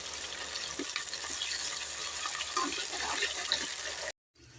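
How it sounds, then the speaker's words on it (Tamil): Onions sautéing in oil over a low flame for a small bitter-berry curry, a steady close hiss of frying with faint stirring, cut off abruptly near the end. "அடுப்பை வந்து லோ ஃப்ளேம்லேயே வச்சு வதக்குங்க."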